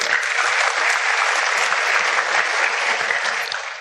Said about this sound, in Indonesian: Mohon aplaus untuk sponsor aktif saya, Bapak Dia Ramdhani Item